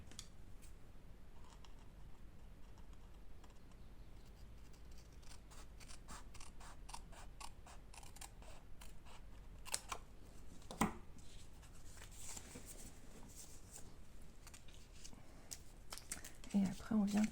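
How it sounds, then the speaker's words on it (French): Scissors snip repeatedly and crisply, trimming excess paper off a handmade bookmark card at close range, quiet clicks and cuts in a sparse rhythm with a few paper rustles and faint handling sounds. "Quand c'est comme ça, on vient recouper ce qui dépasse."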